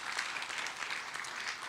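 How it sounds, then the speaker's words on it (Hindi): Audience applause at a network marketing leadership event, a soft, continuous patter of many hands clapping at moderate distance, fairly quiet and even. "जोरदार तालियां हो जाए इनके लिए भी,"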